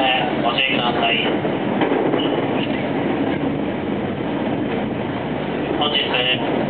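A JR West 225 series electric train rumbles steadily close by, a continuous low roar with faint rail noise, while a station announcement voice carries over it.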